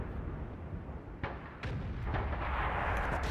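A Bat. Chatillon 155 58 self-propelled artillery gun fires in World of Tanks, booming heavy blasts over a dense, continuous rumbling battle soundscape.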